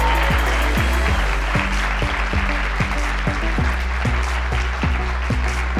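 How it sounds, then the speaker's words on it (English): Sustained audience applause for contestants at a monologue competition final, a dense steady wash of many hands clapping close and loud throughout, with a low rhythmic thump running underneath. "Let's put our hands together for our amazing contestants."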